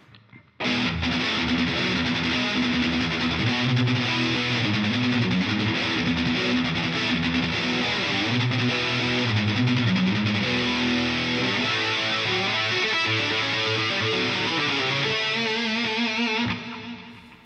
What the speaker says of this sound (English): It covers up this raunchy digital distortion that's so popular on the forums everywhere.